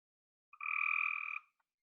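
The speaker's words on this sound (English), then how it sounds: "Now listen to the frogs." Frogs croak in a single sustained, buzzing call lasting about a second, clear and fairly close over a quiet background, with a faint short chirp just after.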